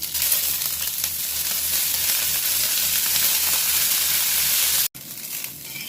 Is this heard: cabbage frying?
yes